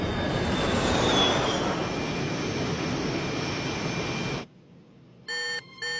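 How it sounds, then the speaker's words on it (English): A cartoon airplane takes off with a loud, broad jet-engine roar that holds steady for over four seconds and then cuts to near silence, followed by a few short electronic beeps. "Flight attendants, please prepare for takeoff."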